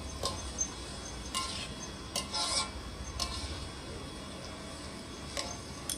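Fried rice is stirred in a pan, with scraping and clinking of a utensil against metal in irregular strokes over a faint background.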